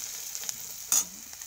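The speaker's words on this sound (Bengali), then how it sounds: "পেঁয়াজটা অনেকটা ফ্রাই হয়ে গেছে" Onions fry in a pan for a crab curry, giving a brief, steady hiss of sizzling oil with one sharper spitting burst in the middle.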